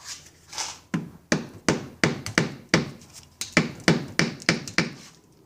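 A hammer striking a chisel during an Evinrude XP 175 HP outboard motor teardown, about a dozen sharp metallic blows in an uneven rhythm, close and loud with brief ringing decays.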